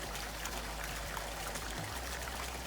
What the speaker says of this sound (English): the water flow's coming out great and really powerful